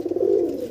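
A pigeon gives a short, steady low coo, close by, while it is about to be released to fly.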